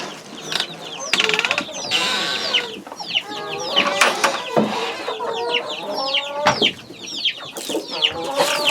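Chickens cluck and squawk close by in a continuous, busy chatter, with sharp calls overlapping and no break.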